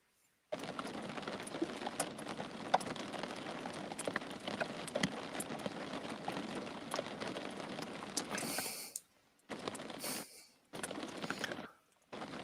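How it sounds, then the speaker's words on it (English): Steady rain patters as a soft, even hiss through most of the passage, faint and constant, then breaks off into several short gaps near the end. "The sound of the rain kind of puts me to sleep."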